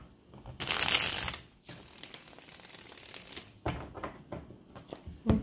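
A deck of tarot cards is shuffled in a loud, rapid riffle lasting about a second, then softer handling and tapping of the cards follows, with no speech.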